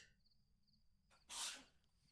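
A single sharp sneeze bursts out once, brief and fairly close, after a quiet stretch with a faint steady background tone.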